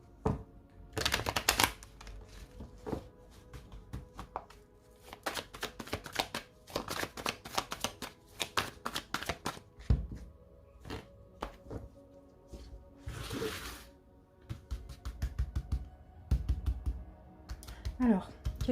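Tarot cards shuffled and dealt out in repeated riffling bursts with soft slaps as cards land, close and fairly loud, with a person talking between them.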